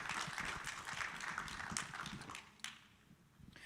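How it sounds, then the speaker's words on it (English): Audience applause at a Congressional Black Caucus Foundation panel on the future of work: dense, steady clapping from a crowd that thins and fades near the end, with a final few scattered claps. "let's give Darrell another round of applause"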